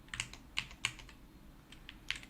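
Quiet typing on a computer keyboard at a Linux kernel coding session, a handful of soft, irregular key clicks spread over a couple of seconds with no talking.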